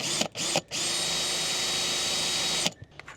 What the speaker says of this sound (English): little drill bit so I can drill a pilot hole.